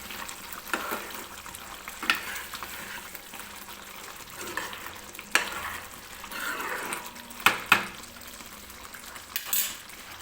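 Green peas for mutter paneer cooking in a pan over low heat, a soft steady sizzle with occasional scraping stirs and brief clinks of a utensil against the pan.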